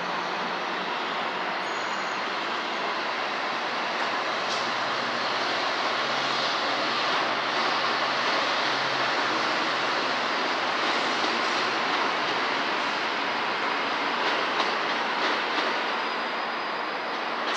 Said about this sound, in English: leading with Amtrak Capital Corridor departing Sacramento